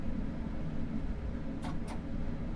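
A Class 465 electric train with modded sounds in Train Sim World 5 gives a steady close running rumble, broken by two short high hissing bursts near the end.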